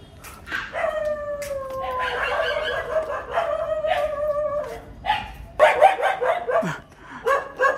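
Several stray dogs from a street pack bark and howl outdoors as they chase off a dog that crossed into their territory, with overlapping yelps and howls at close to middle distance, plus a few quieter calls.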